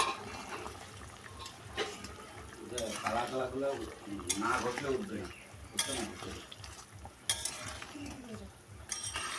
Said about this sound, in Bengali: ভালো করে ঝোল ফুটিয়ে নেব